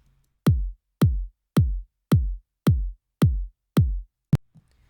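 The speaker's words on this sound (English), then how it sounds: "The alpha channel is the mid-range kick" Seven evenly spaced mid-range kick drum hits with a punchy, slightly brighter attack, followed by a short sharp click at the end, played alone.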